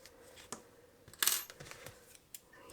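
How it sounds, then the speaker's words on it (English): Scissors snipping through yarn while crocheting an amigurumi snowman, a quiet sharp click and a brief bright cut among light handling noises. "and then you can cut the yarn"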